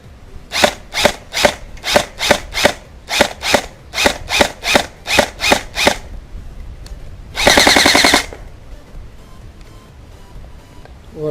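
An airsoft M4 replica with a newly fitted gearbox test-fires in a run of about twelve loud, evenly spaced single shots, then one short full-auto burst, close and alone.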